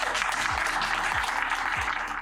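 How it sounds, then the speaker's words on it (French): An audience at a talk on art therapy in psychiatry and street art applauds warmly, a dense steady patter of many hands clapping throughout, with a few low thuds underneath. "donc je vous l'applaudissiez très très fort."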